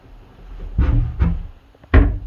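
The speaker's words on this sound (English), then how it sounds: "Okay, try to open the door again." A door repeatedly opened against drawer pulls, giving three short wooden knocks, the last the loudest, close by with no talk.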